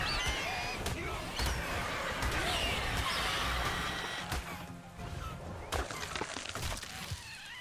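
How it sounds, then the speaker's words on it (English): Birds calling and honking in the video game Ark Ascended, scattered cries and chirps over a busy game soundscape with sharp clanking hits and faint talk beneath. "Lots of birds."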